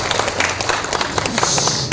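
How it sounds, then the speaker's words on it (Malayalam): An indoor audience at a memorial lecture and music tribute claps steadily and densely for about two seconds, close and fairly loud. "നിങ്ങളൊന്ന് കൈയടിക്കണം കേട്ടോ"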